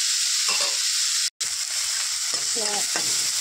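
Meat rubbed with turmeric and salt fries in a pan, hissing steadily while a utensil stirs and scrapes at it. A brief dropout breaks the sizzle partway through.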